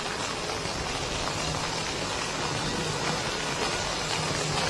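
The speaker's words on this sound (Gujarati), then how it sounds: "આજે સવારથી જયારે વરસાદ ધોધમાર પડ્યો છે" Heavy monsoon downpour over a flooded Ahmedabad street, a steady dense hiss of rain falling continuously and loudly throughout, with no voices.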